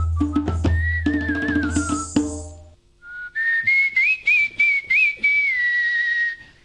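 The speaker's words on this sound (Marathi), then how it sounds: "शिट्टी वाजवण्याच्या 8 प्रकारच्या स्टाईल त्याला येतात" A boy competing in a whistling contest whistles clear, sustained melodic notes, first over a rhythmic percussion accompaniment and then alone in a run of crisp separate phrases, loud and close.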